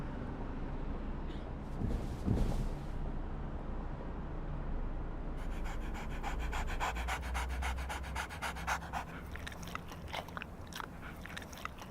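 A dog pants heavily and steadily inside a car in Dearborn, Michigan, quick rhythmic breaths filling the whole stretch, close and continuous, with a brief louder rustle near the start and denser crunchy bursts later.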